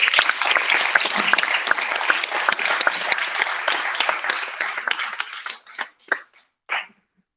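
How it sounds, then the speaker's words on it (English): An audience at a UK Parliament event gives a big round of applause, dense steady clapping that thins out toward the end into a few final scattered claps, then silence. "Can we have a big round of applause?"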